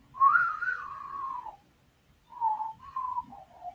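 A person whistling a wavering tune in two short phrases, up close and fairly loud, with a brief pause between them.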